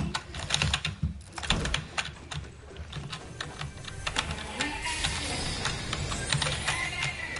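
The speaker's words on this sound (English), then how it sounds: "I hate editing on mouse and keyboard." Rapid, continuous clatter of keys on a computer keyboard during a gaming session, close and fairly loud, with irregular bursts of keystrokes throughout.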